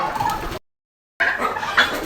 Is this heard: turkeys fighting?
yes